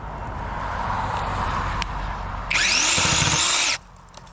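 A battery-powered chainsaw cuts through a small branch about three-quarters of an inch thick, idling low before a sharp, loud high-pitched burst of cutting that stops abruptly after about a second.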